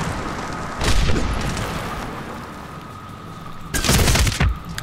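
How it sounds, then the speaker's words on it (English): A shotgun fires in Medal of Honor: Warfighter, with two loud booming blasts about three seconds apart, each trailing off into a short rumble over steady game ambience. "trying to make the shotgun work and it just isn't"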